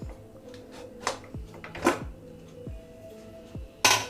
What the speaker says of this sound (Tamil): இப்போ மூடியை திறக்கலாம்.